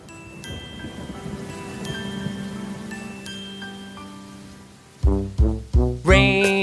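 Rain falls on a school day as a steady, soft patter beneath gentle tonal music, followed near the end by a few loud plucked notes.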